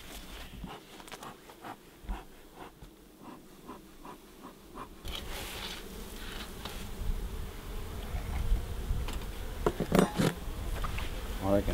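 Honey bees drone steadily around a beehive during re-queening, a thick close buzz that grows busier, with scattered rustling and handling noises.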